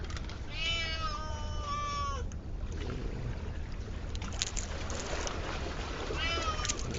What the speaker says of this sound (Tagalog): aking alagang pusa